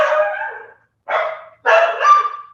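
Pet dogs at home barking in a commotion: three loud, close barks or bark bursts with short silent gaps between them.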